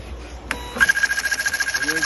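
A 105SLPlus industrial thermal transfer label printer starting up after a click, then feeding labels with a steady rhythmic whirring pulse and a high tone, under a man's speech.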